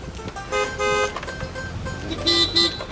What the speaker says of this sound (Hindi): अरे यार कितना ट्रैफिक है यार दिल्ली में यार।